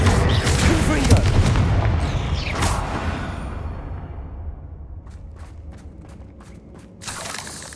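Confringo fire-spell explosions in Hogwarts Legacy, a heavy booming blast that decays into a rumbling tail, followed by a few faint clicks and a final softer thump.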